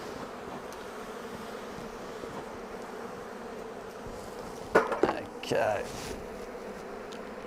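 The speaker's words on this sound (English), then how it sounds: "We've got not many bees on the surfaces" Honeybees buzzing steadily around an open hive during spring work on adding a super, a faint continuous drone with a brief word spoken and a couple of louder knocks near the end.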